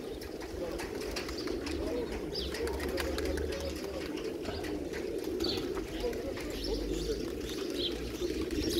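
Pigeons, including crested domestic birds kept by a pigeon fancier, coo steadily in a loud, continuous chorus with scattered chirps, nearby and dense throughout, while faint talk sits underneath.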